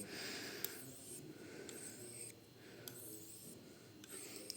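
A knife blade is worked back and forth over a Japanese Nakayama Kiita natural whetstone with slurry, giving a steady, quiet gritty rasp in repeated strokes, each edged by a faint sharp scrape, close by and alone.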